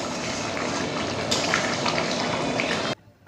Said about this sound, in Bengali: আর এইদিকে আমি পাঁপড়গুলো ভেজে নিলাম